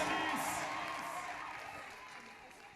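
Audience applause at the Océan Culture 2018 finale: a broad wash of clapping and crowd noise that starts strong and slowly fades, heard a little distant.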